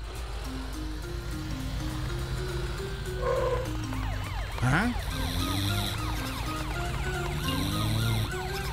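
Cartoon emergency vehicle sirens wail and whoop in overlapping rising and falling sweeps, fairly quiet and continuous over a low engine-like rumble, with a brief swooping effect partway through.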